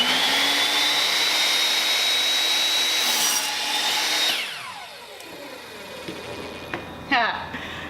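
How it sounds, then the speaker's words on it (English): A miter saw whines loudly through a cut in baseboard, then spins down and falls quiet after about four seconds, followed by a few light knocks and handling sounds. "put that exact piece that you measured on the edge in the center at 0 of your miter saw, and go ahead and finish your cut"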